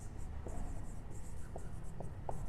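A maths expression is written by hand during a lecture, giving faint, brief scratchy strokes at irregular intervals over a steady background hiss, with no talk.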